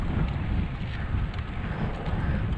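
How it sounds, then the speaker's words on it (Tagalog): Strong wind buffets a microphone outdoors on a motorcycle ride, a loud, steady low roar with gusty rumbling throughout and no other clear sounds. "Naririnig nyo ba mga master yung hangin?"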